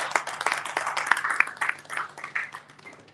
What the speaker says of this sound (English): A round of applause for the speakers once again.